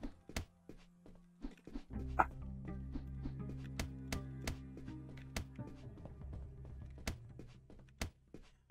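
Dog barking in a video game, repeated short barks and yips over a low droning music bed, quiet and evenly spaced.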